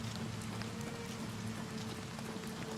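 Steady rainfall hisses evenly in Oblivion Remastered, a soft continuous patter layered over a low droning game ambience, unbroken from start to finish.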